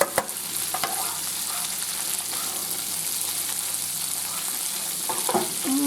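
Green beans and garlic sautéing in a hot pan, a constant close crackling sizzle with a soft low hum underneath and a couple of brief stirring clatters near the start and end, no talking.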